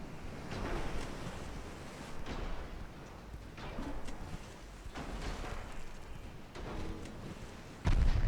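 Heavy dreadnought guns firing high-explosive shells in a naval battle game, a few deep booms spread across the stretch over a steady wash of sea and wind, with a loud blast at the very end.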